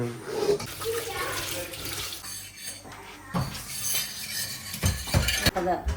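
Cut fish pieces for fish curry are washed in water in a home kitchen, with splashing, running water and clinking of a metal vessel, busy and close throughout.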